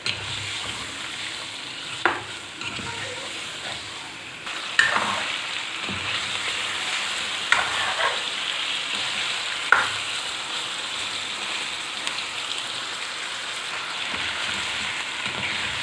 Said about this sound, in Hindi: इसको अदरक लहसुन के पेस्ट के साथ हम अच्छी तरह से ऑयल में फ्राई करेंगे।